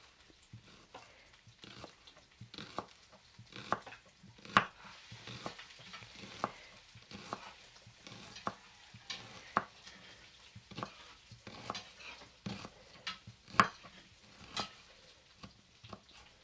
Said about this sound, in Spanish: Ya la cazuela está caliente y ya el chino le va a poner las papitas para que se vayan dorando